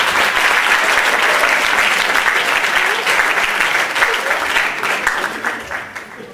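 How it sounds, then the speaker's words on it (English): Audience applause fills a Cambridge Malaysia Night 2006 event hall, a steady dense clapping from a large crowd that holds loud and even before thinning and fading toward the end. "Round of applause again."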